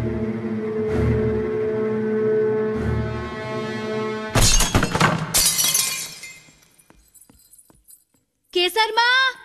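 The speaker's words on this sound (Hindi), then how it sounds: "कांच टूटा है।" Glass breaking in a Hindi film scene: a loud, sudden shattering crash with scattered tinkling fragments, after a low droning background and before a clipped tonal sound at the end.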